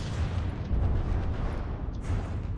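A vehicle's main gun fires in a campaign battle video game, heavy booming blasts with rumbling low-end roll, continuous and loud over the short stretch without speech.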